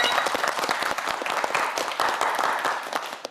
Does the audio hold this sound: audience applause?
yes